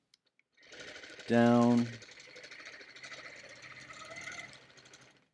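A sewing machine stitches a quilt seam with invisible thread in one short, loud whirring burst, with quiet talk before and after it.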